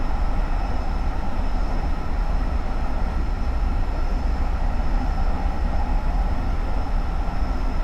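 A Metro-North Comet V train rolls steadily along the Pascack Valley Line in Train Simulator 2019, giving a constant low rumble and rail hum with no voices.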